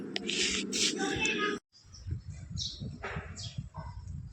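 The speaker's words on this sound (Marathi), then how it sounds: "एक चिमणी आणि त्याची 2 छोटी छोटी पिल्लं आहेत" A house sparrow and two chicks chirp close by in a dense burst of high, rapid tweets, followed by softer, scattered chirps after a brief pause.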